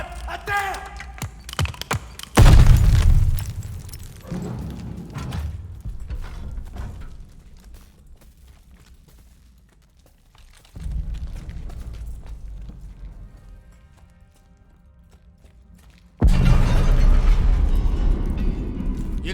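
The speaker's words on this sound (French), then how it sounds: "Y'a des grenades à terre!" Grenades burst in the World War II shooter Call of Duty Vanguard, with loud sudden blasts near the start and again late, separated by quieter stretches of gunfire, rumble and shouted voices.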